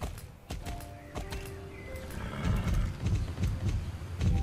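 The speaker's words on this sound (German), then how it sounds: "Hier drin sind nur Pferde." Horses in the Star Stable video game clip-clop in a steady walking rhythm, hooves thudding close by over a low rumble, with a brief whinny-like tone in the background.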